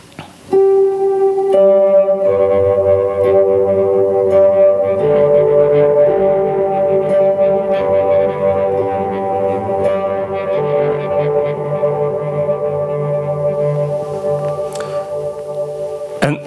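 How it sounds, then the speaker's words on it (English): Soft ambient guitar swells through a swell reverb with the guitar's tone rolled off, blooming into a washy, synth-like pad, sustained and reverberant, with layered chords slowly shifting over about sixteen seconds. "I'm taking that swell verb and I roll off almost all the tone on the guitar"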